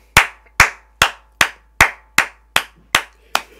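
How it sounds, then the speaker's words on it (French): Church congregation applauding, rendered as nine sharp, evenly spaced claps in slow unison rhythm, loud and close with no talk. "tu peux acclamer pour la gloire de Dieu"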